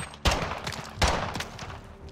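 Two booming shotgun blasts in the Modern Warfare video game, sharp and loud, about three quarters of a second apart, each trailing off with a rumble and smaller crackling shots.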